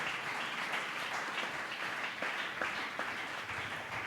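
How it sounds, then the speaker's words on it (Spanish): Congregation applauding at a church service, a soft, steady wash of many hands clapping at a distance with a few sharper claps standing out. "Dele ese aplauso al Señor."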